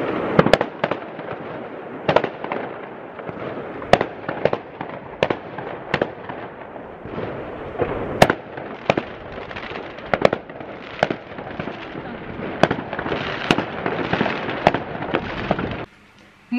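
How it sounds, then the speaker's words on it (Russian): New Year fireworks set off in a residential courtyard, heard from an apartment window as a long run of loud cracking bangs and pops at irregular intervals, fairly close. "а мы смотрим фейерверк из окна"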